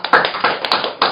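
A church congregation claps together in thanks during a worship service, a dense band of hand claps with rhythmic surges, fairly loud and close, with no voices.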